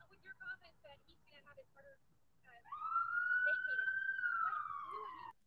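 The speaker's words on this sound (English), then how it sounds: "They skip because of the ambulance sounds." After a few seconds of talking, an ambulance siren swells into one long rising and falling wail that holds for nearly three seconds before fading.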